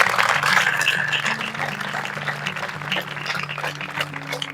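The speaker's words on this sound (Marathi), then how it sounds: "स्वतःसाठी टाळ्या वाजवा" Applause from a crowd gathered for a police recruitment mock exam in Maharashtra, a dense clatter that is loudest at the start and continues over steady background music throughout.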